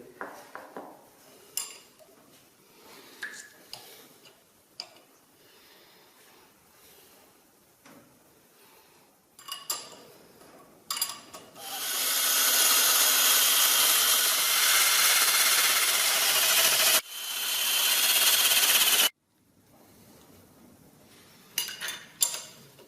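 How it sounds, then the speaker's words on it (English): Cleaning the threaded area of a 1929 Albion engine brings scattered metallic clinks and scrapes, then a loud steady hiss of a power tool or air blast lasting several seconds with a brief break, before more light tool knocks. "I'm cleaning down the threaded area so that when we sit the head on, we lubricate the threads"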